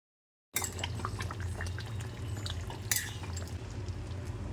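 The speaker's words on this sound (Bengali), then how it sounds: "মাংসটাকে এক মিনিটের মতো ভালো করে ফুটিয়ে নিতে হবে" A pot of chicken curry simmers on the stove, giving a steady low bubbling hiss with small pops and crackles throughout, fairly close and without any voices.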